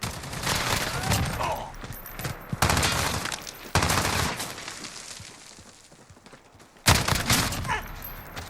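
L86 LSW light machine gun in Call of Duty Modern Warfare firing several loud, close bursts of rapid automatic gunfire, separated by brief pauses and fading tails.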